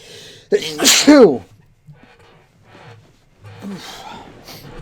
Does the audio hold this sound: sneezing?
yes